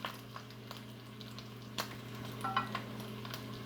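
Bacon strips frying in a pan, giving a steady low sizzle with a few sharper pops and crackles scattered through it, close by and fairly quiet with no talking.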